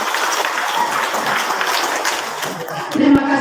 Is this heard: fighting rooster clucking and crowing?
no